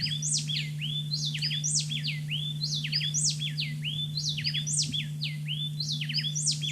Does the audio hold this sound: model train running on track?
no